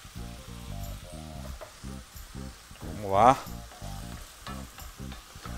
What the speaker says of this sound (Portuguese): A ideia é dar uma refogada nos cogumelos também